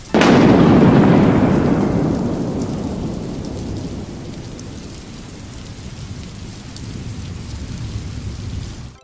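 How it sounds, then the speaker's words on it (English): A deep rolling thunderclap booms at the start and slowly fades, while steady rain patters throughout and swells slightly near the end. "It could be thunder or lightning. That must mean it is a stormy day."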